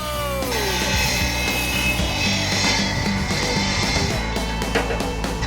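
A benchtop wire brush scrubs rusty motorcycle brake parts outdoors, a loud, continuous harsh grinding and rasping that varies as the parts are pressed against the spinning brush.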